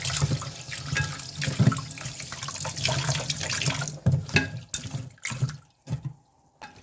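Dal, one cup of lentils, rinsed under running tap water in a kitchen sink: a steady splashing rush, then broken sloshing and swishing as the grains are stirred and drained.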